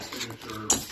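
Shredded carrots, cabbage and onions being mixed in a bowl for spring rolls, with soft scraping and stirring rattles, a sharper clink near the end, close and moderately quiet.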